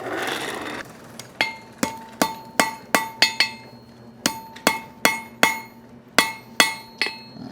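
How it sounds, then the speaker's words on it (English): A hammer rings sharply on hot metal on an anvil during the forge welding of a chain link, about fifteen close, loud, evenly spaced blows with brief ringing tails, arranged in short groups separated by pauses. "one welding pass maybe here"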